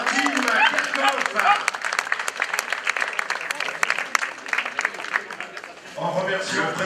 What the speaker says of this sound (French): Vos applaudissements pour le coureur néerlandais.